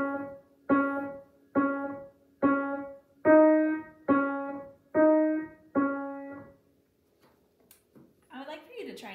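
Piano notes played on two black keys, eight evenly spaced single notes struck one after another with clear ringing decay, followed by a brief voice at the end.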